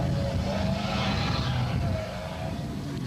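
A Class E Nissan Hardbody rally truck drives past during the 2003 Nissan Dealers 400, its engine a steady, continuous drone with a broad roar and a faint tonal whine that eases slightly toward the end.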